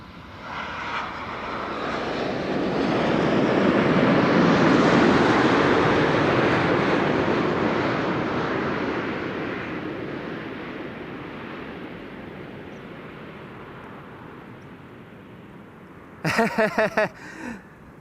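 Boeing 787-9 Dreamliner airliner arriving at Amsterdam Schiphol, a loud jet roar swelling as it nears, peaking midway and slowly fading into a distant rumble, followed by a brief burst of clicking noise at the end.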